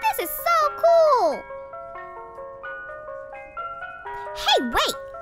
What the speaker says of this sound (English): Did you hear that? Is that... Yes! It's Buzz's ice cream truck!